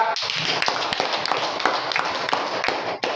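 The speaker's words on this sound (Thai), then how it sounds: "ปรบมือให้กลุ่มนี้นะครับ" A group of people applauds together, a dense, steady wash of close handclaps lasting about three seconds with a brief dip near the end.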